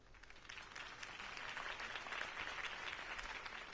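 Steady video game crowd applause in Batman: The Telltale Series, with dense clapping and some cheering, sustained at moderate volume for several seconds, no speech over it.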